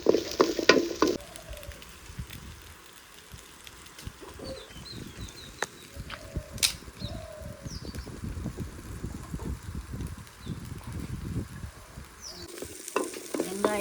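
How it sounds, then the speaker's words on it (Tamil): Onions and chillies fry in a pan for mushroom kurma, with a soft steady sizzle and repeated scraping stirs, close by. Faint bird clucks sound in the background, and no one speaks. "வெங்காயம் நல்லா செவந்து வருது"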